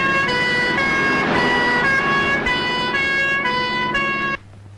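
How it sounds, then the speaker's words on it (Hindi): An ambulance siren wails loud and close in a steady repeating tone, cutting off abruptly near the end. "मैं एम्बुलेंस लेकर आता हूँ।"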